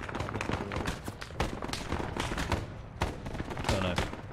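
Gunfire in the Arma 3 Vietnam game setting, with repeated sharp shots and bursts crackling across the whole stretch, some close and loud, others more distant, with voices talking underneath.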